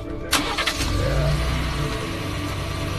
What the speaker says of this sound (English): Yeah, start her up.